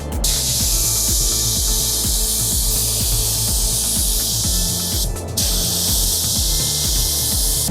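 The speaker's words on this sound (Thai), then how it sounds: "สำหรับเทียกะนะครับเราก็จะพ่น2เที่ยวทิ้งช่วงระหว่างเที่ยวประมาณ 3-5 นาทีนะครับ" A spray gun sprays a Bigben Clear Guard 4:1 clear lacquer coat in a steady, loud, close hiss that runs throughout, over a rumbling compressor-like drone with a brief break near the end.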